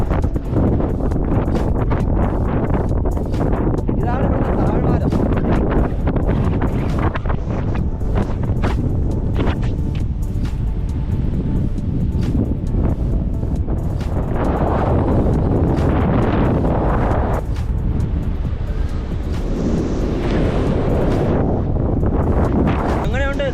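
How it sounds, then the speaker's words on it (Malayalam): Strong wind buffets and roars across the microphone on the Kondakettimala mountain top, gusting unevenly throughout while a person speaks intermittently. "ആദ്യം ഇവിടെ പയ്യെ കാറ്റാണ് കേട്ടോ"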